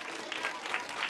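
Brief, fairly faint burst of audience applause at a light entertainment show, a continuous wash of clapping with no voices on top.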